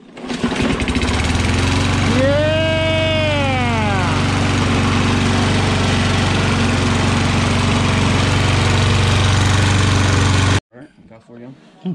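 A Toro Recycler lawnmower engine fires up, climbs in a quick rev and settles into a loud, steady running drone for about ten seconds before cutting off. A voice briefly shouts afterward.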